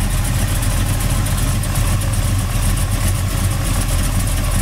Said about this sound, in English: This car has just a perfect Chevelle Super Sport sound.